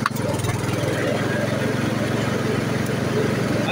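A Castelgarden ride-on mower built by Stiga runs close by with its blades engaged, giving a loud, steady engine drone with a fast rhythmic pulse.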